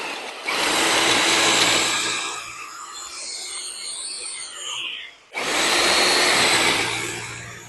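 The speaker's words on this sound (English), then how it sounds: "What I will say is this drill is extremely heavy" A heavy drill turning a wood auger bit for a raised sleeper pond build, a loud steady whir that drops to a lower grinding tone midway, then cuts out and starts again at full speed.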